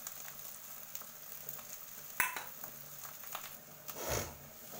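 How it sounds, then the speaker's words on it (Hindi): Ground coriander, turmeric and chili sizzling in hot oil for a mushroom curry, a soft steady frying hiss broken by a few sharp spoon scrapes and stirring clatters, quiet and close with no talking. "मसाले में हमने लिया है धनिया पाउडर और हल्दी और चिली मिर्च, इसको भी हम ऐड करके भून लेंगे।"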